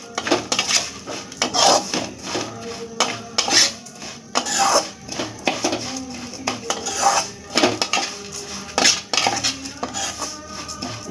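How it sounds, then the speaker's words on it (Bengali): A spoon scrapes and clinks against a pan while vermicelli fries in ghee, giving irregular metallic scraping strokes and knocks in a steady stirring rhythm, close and clear. "এইভাবে নেড়ে নেড়ে নেড়ে নেড়ে ভাজতে হবে, তা নাহলে পুড়ে যাবে"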